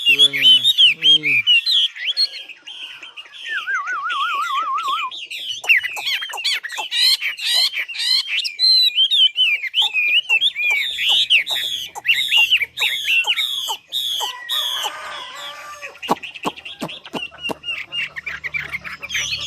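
A Vietnamese mi songbird from Ha Giang sings alone in a long, lively run of clear whistled phrases, trills and chirps, close and bright, with short pauses between bursts.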